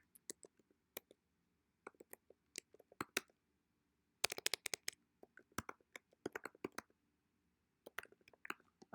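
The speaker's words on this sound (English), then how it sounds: "My typing's not great" Scattered bursts of fast, light keystrokes on a computer keyboard while typing a list into a document, close and quiet with short pauses between flurries.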